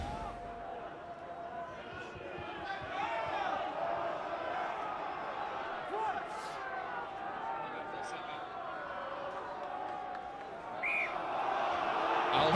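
A rugby stadium crowd boos Ulster with a broad, steady wash of jeering that rises near the end, while a commentator talks over it.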